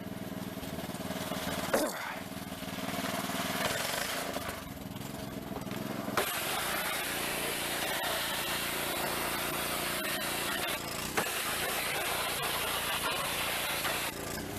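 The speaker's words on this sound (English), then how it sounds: "the power washer will blow most of that stuff way off there" A power washer blasts grime off a car in a work garage, a steady loud broadband spray running nearly unbroken throughout, with a brief sharp knock near the start and a louder surge partway through.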